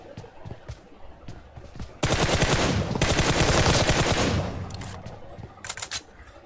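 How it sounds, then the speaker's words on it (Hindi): Rapid automatic gunfire from a PUBG Mobile match on the remade Erangel map rattles in dense bursts, a long sustained volley in the middle followed by scattered shorter shots, loud and close. "वहां पर गोलियां चला रहा है"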